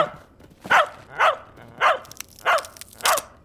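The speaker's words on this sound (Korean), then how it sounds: "너 계속 짖지 마." A cartoon dog in an animated children's show barks five times at a steady pace, each bark sharp and fairly loud over a faint background. No speech is heard.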